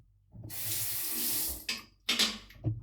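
A bathroom tap runs into a sink for about a second, a bright rushing splash, then stops, followed by a few short splashes of water being scooped and handled at close range.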